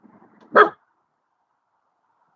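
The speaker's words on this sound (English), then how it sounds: "What you barking at?" A dog barks outdoors, a single sharp, loud bark after a brief soft whine, followed by quiet and the start of another bark at the very end.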